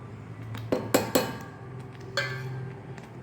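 Metal spoon stirring ground spices, black pepper among them, in a pan while cooking spiced amla, giving a few sharp scraping clinks over a quiet stretch with no talk.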